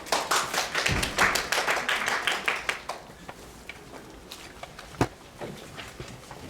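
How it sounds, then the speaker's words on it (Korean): A lecture audience at a symposium on literary translation applauds to welcome a professor, with brisk clapping for about three seconds that dwindles into a few scattered, isolated claps in a quiet hall. "박수로 맞이해 주시기 바랍니다."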